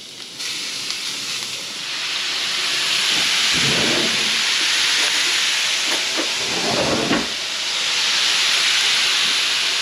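Thin steak meat cooks slowly on medium-low heat, giving a broad, steady hiss and sizzle that swells a little in places, with a couple of dull low bumps of handling in the pan.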